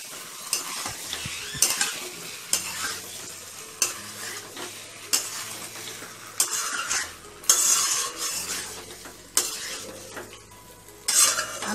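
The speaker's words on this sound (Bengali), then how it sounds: "আমি ঢাকনাটা তুলে আরেকবার একটু নাড়িয়ে দেব।" Potatoes for aloor dom are stirred in a frying pan, with loud repeated scraping and clattering of a utensil against the pan over a steady sizzle, coming in irregular bursts close up with no talk.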